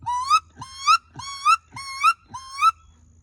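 A voice, likely using a duck call, imitates a wood duck's flying call: five evenly spaced rising squealing whistles, loud and close, each starting with a soft breathy onset, with no talk.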